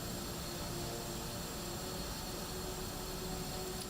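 A jet engine roars in Batman: Arkham Asylum as a steady, broad, unbroken rush that fills the whole stretch at an even level, with no talk over it.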